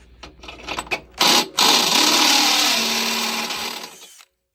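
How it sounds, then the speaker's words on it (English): A few short taps, then a power drill whines loudly as a step bit enlarges a hole in metal for about three seconds before stopping abruptly, on a central vacuum power unit. "Step drill."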